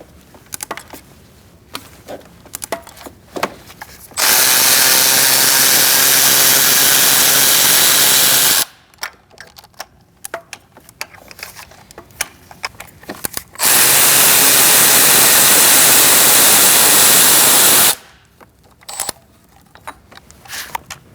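A power tool with an E10 socket backs out intake manifold bolts on a 2008-2014 Mercedes-Benz C300 3.0L V6, firing in two loud, steady whirring bursts of about four seconds each, separated by quieter clinking and handling noise.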